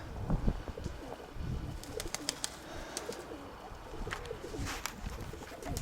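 Domestic pigeons coo softly in a home loft, repeated low calls over a breezy, rustling background, with occasional chirps and a flutter of wings.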